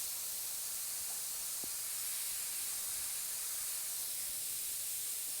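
An airbrush sprays paint onto a T-shirt portrait, a faint steady hiss of air that runs unbroken throughout with no talk.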